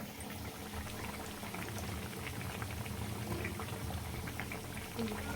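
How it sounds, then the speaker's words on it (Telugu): Oil bubbling steadily while mirchi bajji deep-fry, a dense continuous crackling fizz, close and fairly quiet, with a faint voice in the background. "oil sound"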